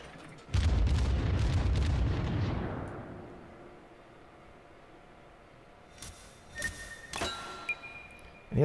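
Warship main guns fire in World of Warships as a loud, deep booming salvo that rumbles and fades over a couple of seconds, followed later by sharper, fainter distant blasts and clatter.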